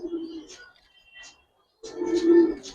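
A male pigeon coos in two bursts, low throaty rolling calls close to the listener, separated by a brief silence, with a few soft chirps between.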